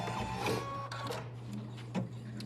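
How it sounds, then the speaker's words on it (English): A Baby Lock Altair 2 embroidery machine sews a placement stitch, giving a quiet, steady mechanical hum with light rhythmic ticking from the needle. "The first step in this design is going to be a placement stitch."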